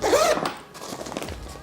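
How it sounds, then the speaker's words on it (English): A luggage suitcase zipper is pulled open in one quick, close rasping sweep, followed by softer handling noises as the case settles. "If you guys open the zipper"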